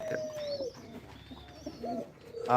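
Pigeons coo softly in a low, throaty rhythm, with a few faint chirps and rustling nearby.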